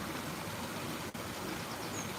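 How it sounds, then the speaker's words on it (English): Water flowing outdoors, a steady faint rushing wash, interrupted only by one brief dropout midway, with no voices. "Sound of water."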